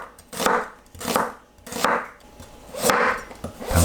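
Onion sliced thinly with a knife, heard as steady, close chopping bursts of about five strokes against a board, unaccompanied by talk.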